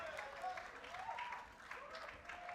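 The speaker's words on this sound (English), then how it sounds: "that is the claps for the Indian Sumit Nagal" Crowd clapping for a player at a Davis Cup tennis tie between India and Morocco, a moderate scattered patter of applause heard faintly under a commentator's voice.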